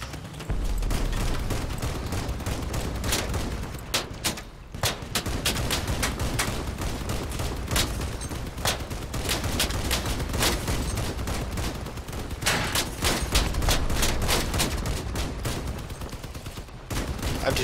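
Rapid machine gun fire and other weapons blasting in the vehicle combat video game Crossout, loud and nearly continuous bursts with brief gaps and no talking.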